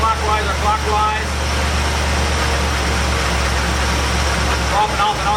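Car engine idling while distributor timing is adjusted after an electronic ignition module install, a steady, loud low rumble with a slight dip in revs, heard under a voice.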